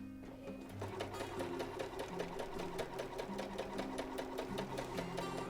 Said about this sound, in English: using a domestic sewing machine on a straight stitch, we're going to make a seam that goes all the way across